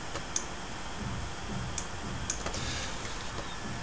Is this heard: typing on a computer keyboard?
yes